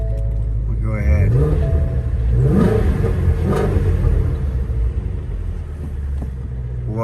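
A 2016 Ford Shelby GT350 engine revs with a deep exhaust rumble, rising in a few loud pulses under steady close engine drone, with someone talking over it.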